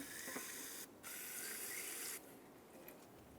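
Water sprays steadily from a tap over rear brake parts from a Pontiac Vibe being rinsed, a constant faint hiss that briefly dips and then resumes.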